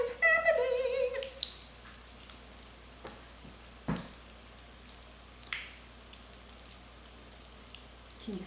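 Pop Rocks candy fizzing in a science experiment with balloons, giving a quiet, scattered crackle of sharp little pops and sizzles after a brief squeaky tone at the start.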